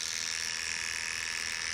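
Electric dog clippers buzz steadily as a poodle's tail is trimmed, a continuous close high-pitched motor hum with no talking.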